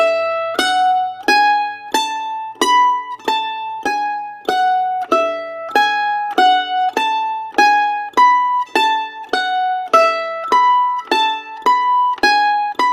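A mandolin exercise in which a held note, pivoted with the pinky, alternates with descending notes, played as a steady run of bright plucked tremolo notes, clear and close, with no talking.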